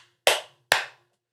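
Two sharp hand claps about half a second apart mark the start of a podcast recording, close and crisp, each with a short ringing room tail, with no talk.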